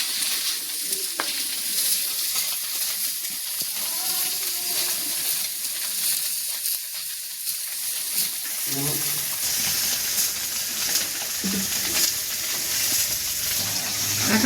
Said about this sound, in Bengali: এখন আমি কড়াই পাঠিয়ে ডিমগুলি দিয়ে দিলাম।